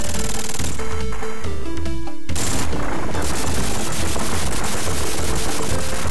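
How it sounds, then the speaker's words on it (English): A bomb explosion destroying a building in the Sonic 3 & Knuckles video game: a loud, dense crashing roar with rapid rattling bursts, a brief break, then a sustained noisy rumble of collapse. "the building's destroyed because of one bomb"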